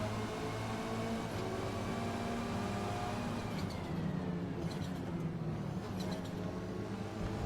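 Front-wheel-drive Ford Focus BTCC touring car racing at Lime Rock Park in Forza Motorsport, its engine droning steadily and close throughout with shifting tone, no speech.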